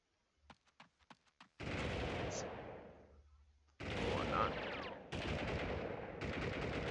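Gunfire in the game Army Men 3D opens with a quick string of sharp single shots, then gives way to loud, sustained bursts of close-range firing and rumbling blasts.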